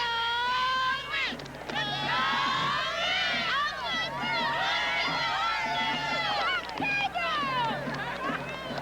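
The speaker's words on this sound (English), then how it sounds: "Can y'all give me a cheer right now that can hear it all the way back in Kentwood?" Crowd cheering and screaming at a high school football game between Kentwood and Southern Lab, many voices shrieking and whooping together in a loud, sustained roar that swells and dips.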